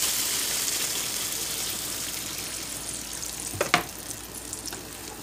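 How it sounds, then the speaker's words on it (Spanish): Hot water poured onto sautéed rice, a steady loud sizzle and hiss with a brief splashing burst near the end, close and without talk. "Ahora lo que voy a hacer es echar agua caliente para que se cuece el arroz bien."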